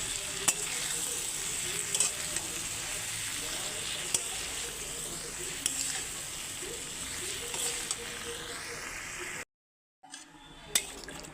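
Ground chili, cumin and coriander spices frying in a pan, giving a continuous sizzle with occasional spatula scrapes and clicks, briefly cut to silence before the sizzle resumes.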